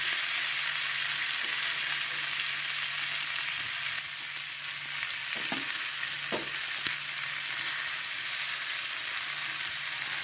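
Green chilies frying in a pan of Bengali mustard drumstick curry, giving a steady broadband sizzle throughout with a few soft stirring knocks partway through, no voices.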